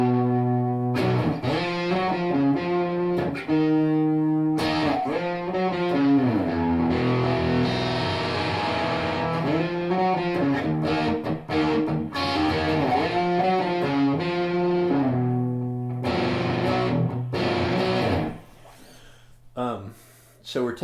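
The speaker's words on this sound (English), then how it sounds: "So we're taking off a little of the extra distortion or overdrive by turning our guitar down a little bit." Electric guitar plays the slow, sultry interlude of a rock song with the guitar volume rolled back for less overdrive, sustained ringing chords and bends in a steady flowing line, loud and close, fading out near the end.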